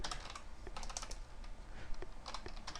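Rapid keystrokes tap on a computer keyboard at close range in quick bursts with short pauses between them, quiet and alone with no voices.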